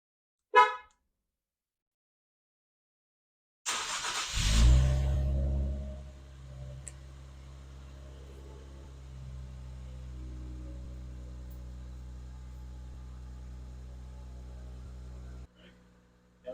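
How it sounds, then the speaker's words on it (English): Infiniti Q60 Red Sport on its stock exhaust fires up from cold: a sharp crank and loud start flare, then a steady rumbling fast idle that runs on and cuts off near the end. "this is going to be the cold start"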